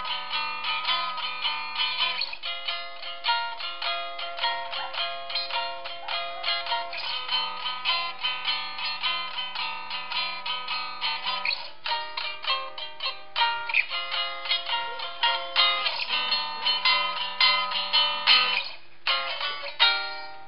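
Blues in G on a three-string cigar box guitar, played alone with steady plucked notes and chords at an even, moderately loud level, with brief pauses near the end.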